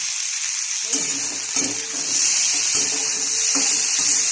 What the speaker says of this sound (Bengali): চিংড়ি মাছটাকে দিয়ে দিলাম